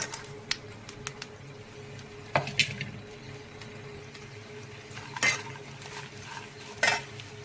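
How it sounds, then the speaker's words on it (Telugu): Ivy gourd, peanuts, onions and curry leaves being stirred in a pan, with a spoon scraping and clinking against the metal at irregular intervals over a soft background hum. "దొండకాయలు పల్లీలు ఆనియన్స్ కరివేపాకు వేసి బాగా కలుపుకోవాలి"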